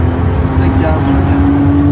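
A BMW 130i accelerates hard in a long third gear, heard from inside as a loud, steady engine drone with a deep rumble that holds throughout.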